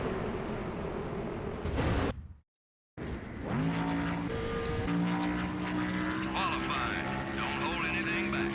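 Race car engine revving and shifting during qualifying in the NASCAR Thunder 2003 video game, loud and continuous with a brief cut to silence, then rising engine tones with talk over it.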